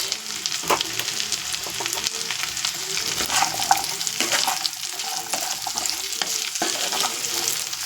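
Carrots and other vegetables fry in a pan while a spoon stirs them, giving a continuous close sizzle with frequent sharp scraping and clinking strokes and no talking.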